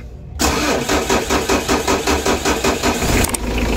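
A car engine cranks and catches after a short silence, then runs at a steady idle with a pulsing rhythm, close and loud, during a check for a charging fault.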